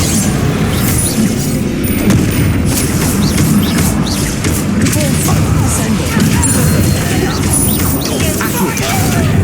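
Confringo and Bombarda spells explode in a Hogwarts Legacy duel, a steady barrage of loud booms, crashes and impacts that runs unbroken for nearly ten seconds, with speech mixed in under the din.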